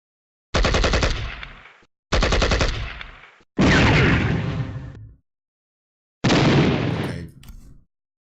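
Bursts of gunfire from a war strategy game set in a China–Vietnam conflict, four loud separate volleys of rapid automatic fire, each about a second or more, with short silent gaps between them and no talk.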